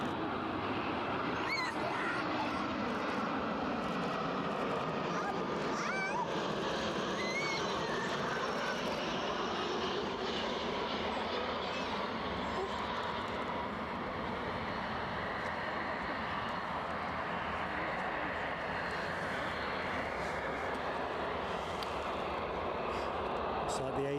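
An ATR turboprop at Edinburgh Airport drones steadily and fairly loud for the whole stretch, its engine noise broad and continuous, while people talk over it at intervals.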